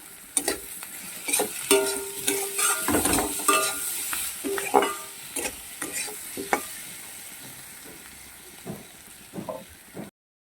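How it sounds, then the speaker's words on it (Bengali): Onion, potato and garlic fry in a pan with a quiet background sizzle, broken by irregular scraping and clattering as a spatula stirs them, busier at first and thinning out toward the end. "রসুনটাকে পেঁয়াজ আলু রসুন ভালো করে ভেজে নেব"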